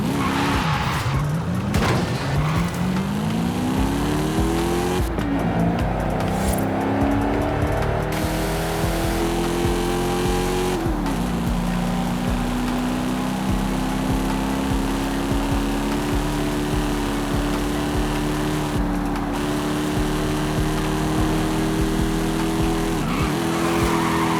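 A Dodge Magnum SRT8 in Forza Horizon 5 revs hard and shifts through gears, engine note climbing steadily with tire squeal and skidding bursts, loud and continuous throughout.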